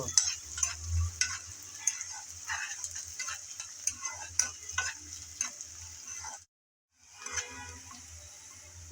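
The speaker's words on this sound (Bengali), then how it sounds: "আদা আর রসুন কুচি দিয়ে পেঁয়াজের সাথে আবারও নেড়ে চেড়ে ভেজে নিতে হবে" Faint sizzling of chopped onion, ginger and garlic frying in a pan until light brown, with light scraping and tapping of a spatula stirring at irregular intervals, a brief pause near the end.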